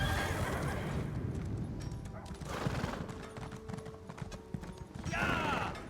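A horse in the video game Elder Scrolls Online: brisk clip-clop of hooves under a game soundscape, with a loud whinny partway through and another toward the end, fairly close.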